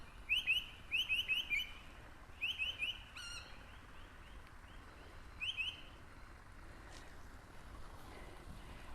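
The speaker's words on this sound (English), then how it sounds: "I feel like that bird might actually light on my" Outdoors, a bird chirps in quick repeated bursts of bright, high trills, clustered early and then spaced out, over a steady rushing backdrop of wind or distant surf.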